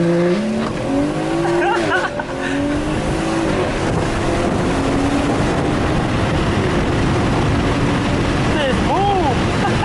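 A Camaro ZL1 with anti-lag races hard, a loud, close, continuous engine roar with rising and falling revs and tyre noise, with people talking under it.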